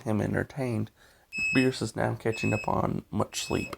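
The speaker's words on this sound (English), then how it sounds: "Sorry about the beeping, my power's out." Short, high electronic beeps from a device during a power outage repeat every second or so beneath continuous talking, each tone brief and steady.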